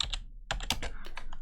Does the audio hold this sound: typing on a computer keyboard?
yes